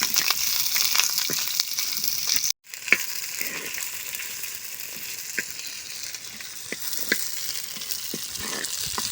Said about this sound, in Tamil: பெரிய சூஸ் வெங்காயம் வெட்டி வச்சுருக்கோம் அதையும் சேர்த்து வதக்கிக்கலாம்